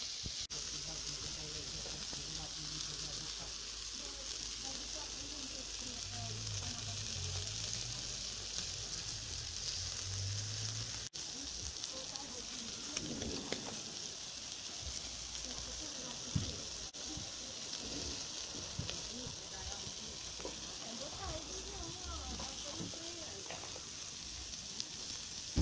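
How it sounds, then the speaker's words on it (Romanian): Pork rind frying crisp on an outdoor grill, a soft continuous sizzle with occasional pops, heard close and steady throughout while people talk at times in the background. "Ce să fie prăjit? Șoricul."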